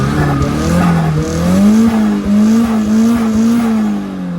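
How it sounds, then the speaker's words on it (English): Nissan 240SX with an SR20DET engine running close by, a loud, smooth, steady idle with gentle wavering pitch and no talking. "car starts up super smooth and easy and quiet."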